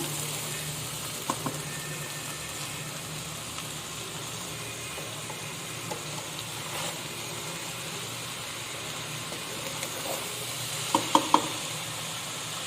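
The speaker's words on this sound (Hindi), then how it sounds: "ये मिक्स कर लिए चीनी मैंने चावल में।" Sugar mixed gently into rice in a wide open pot for degi zarda: a low continuous simmering hiss with occasional soft scrapes and a short cluster of metallic spoon clinks near the end, close by.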